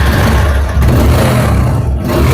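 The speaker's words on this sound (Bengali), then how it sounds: "ইঞ্জিনের সাউন্ড টাউন কিন্তু যথেষ্ট পরিমাণে ভালো আছে বন্ধুরা।" A used motorcycle engine, on offer as a low-priced second-hand bike in Bangladesh, runs loudly close by, its rough mid-low drone surging with short revs and a brief dip in between.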